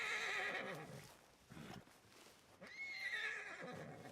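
Horse in the Red Dead Redemption 2 video game neighing loudly twice, a shrill whinny at the start and another near the end, with soft snorting between.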